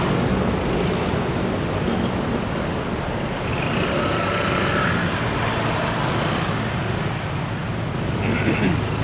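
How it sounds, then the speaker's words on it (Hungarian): Dense Bangkok street traffic rolls past continuously, a loud, unbroken roar of cars and heavier vehicles close by, with brief higher tones and a hiss near the end but no speech. "Jönnek már az autók 600-zal, és egyik se fékez."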